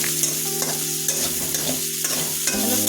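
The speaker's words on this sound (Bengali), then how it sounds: "আমার আলুগুলো ভাজা হয়ে গেছে।" Potatoes fry in a pan with a constant close sizzle and a few rhythmic scraping stirs of a spatula. The sound is loud and steady, with no voices.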